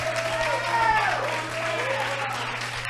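The crowd at a Thunder Fight 41 MMA event cheers and applauds for the fighter Miguel Firmino "Demolidor", a sustained roar of applause with a commentator talking over it.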